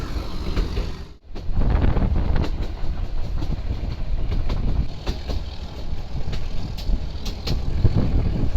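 A heritage train rolls through Goram Ghat in Rajasthan with a steady loud rumble and repeated clickety-clack of wheels on rail joints, heard close from on board under wind noise.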